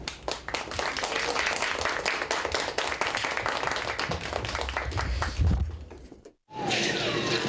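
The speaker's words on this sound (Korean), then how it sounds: "여러분의 큰 박수 소리와 함께 극단 애인의 전쟁터 산책 시작하도록 하겠습니다." A theater audience claps loudly before a play by a disabled actors' troupe begins, sustained dense applause that swells, then cuts to silence and a quieter room.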